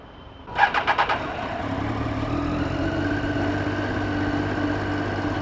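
A Triumph Daytona 675R with a stock exhaust cranks with a quick run of starter pulses, fires, and settles into a steady idle that holds close and loud to the end.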